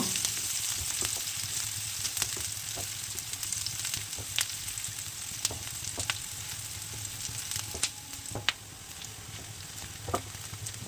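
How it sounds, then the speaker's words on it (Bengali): Chopped medium onion frying in hot white oil in a frying pan gives a steady, close sizzle with scattered sharp pops and crackles throughout, and no talking. "তেলের মধ্যে একটা মিডিয়াম সাইজের পেঁয়াজ কুচি দিয়ে কিছুক্ষণ ভেজে নেব"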